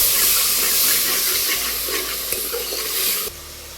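Mutton curry base with garlic, ginger and tomato in rendered mutton fat being stirred, a loud hissing sizzle with scraping strokes that eases briefly and then drops in level near the end.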